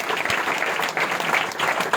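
An audience at a Christmas church gathering claps loudly and steadily to welcome a pastor to the stage, dense applause throughout with no voices over it.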